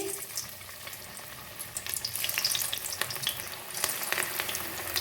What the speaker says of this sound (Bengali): একে একে পকোড়াগুলো ছেড়ে দিচ্ছি